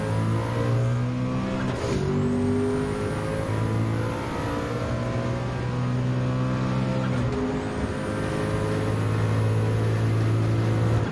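Porsche 962C race car engine in Gran Turismo 7, revving steadily with rising and falling pitch as gears change, loud and close throughout a classic-car race lap with no talking.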